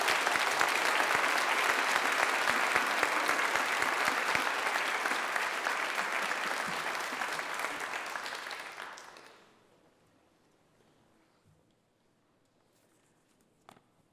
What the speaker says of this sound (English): Big round of applause for our presenter